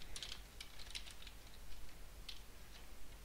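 Quiet typing on a computer keyboard, with short bursts of light clicky keystrokes set close against a faint background hiss.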